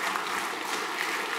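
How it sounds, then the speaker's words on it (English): Steady, dense applause from a congregation during a morning chapel gathering, a brief continuous wash of clapping with no speech over it. "Give a round of applause."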